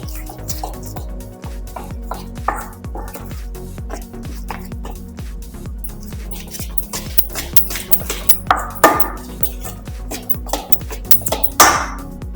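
Mango cake batter with milk is mixed in a bowl by hand, giving repeated quick scraping strokes in a steady rhythm with occasional louder metallic clinks of the utensil against the bowl, close to the listener.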